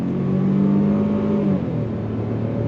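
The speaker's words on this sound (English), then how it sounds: "I'm gonna go ahead and go on throttle. On throttle, drops down," A 2023 Ford Escape ST-Line's three-cylinder turbo engine accelerates under throttle through an 8-speed automatic in sport mode, a loud steady drone from inside the cabin whose tone drops midway as the transmission shifts.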